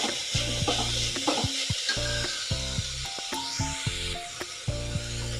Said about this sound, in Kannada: ಇದನ್ನು ಕೂಡ ಎಣ್ಣೆ ಜೊತೆ 1-2 ನಿಮಿಷ ಫ್ರೈ ಮಾಡ್ಕೊಳ್ಳೋಣ.